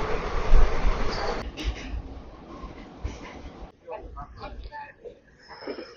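Krishna Express train running near Nellore, with a steady rumble of rail travel, a shift partway through to a quieter, more broken rumble, and voices talking over it.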